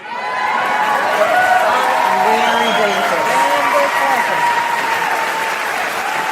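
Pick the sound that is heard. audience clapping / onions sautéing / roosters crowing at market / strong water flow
audience clapping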